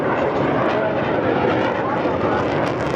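A SAAB Viggen AJS37 jet flies a display at the Waddington Airshow, its loud continuous engine roar filling the air with a steady broadband rumble throughout.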